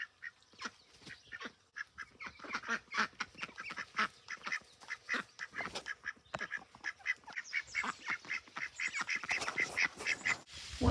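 A flock of thirteen ducks in a garden quacking busily and continuously, many overlapping calls close by, loud and dense throughout.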